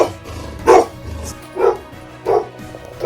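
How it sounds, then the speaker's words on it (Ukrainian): A small dog barks four times in short, sharp yaps spaced about a second apart, fairly close, with faint low rumble underneath, in the war-damaged town of Vovchansk. "Ух ти, гавкає."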